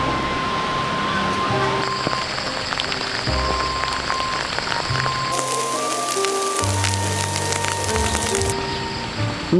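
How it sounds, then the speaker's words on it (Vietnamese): Steady rain falls on surfaces at a home, a continuous dense hiss of drops under tonal background music that shifts partway through, with no voices. "Mưa rồi Bích ơi"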